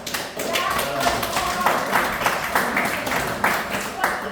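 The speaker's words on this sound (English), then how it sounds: "I think Rocco deserves a round of applause." Applause from attendees at a community annual meeting, scattered clapping mixed with loud voices talking over it throughout.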